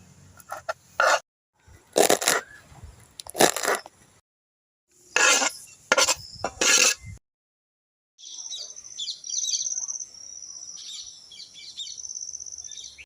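Washed moringa leaves being finely chopped with a knife, heard as close, rapid bursts of sharp strokes separated by short pauses, then giving way to a steady high-pitched chirping background with no voices.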